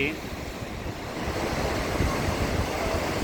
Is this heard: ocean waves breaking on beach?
yes